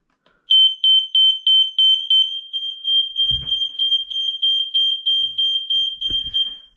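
A radio-linked smoke alarm sounds loud, piercing high-pitched beeps in a rapid regular pulse that runs continuously after a short silence, with a couple of brief low thumps in the background.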